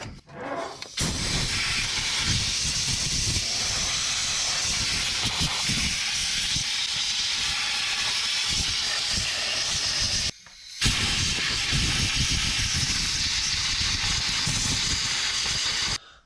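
Compressed air blowing dirt and crud off a truck engine's valve cover: a loud, steady, close hiss that runs continuously for about ten seconds, breaks briefly, then resumes.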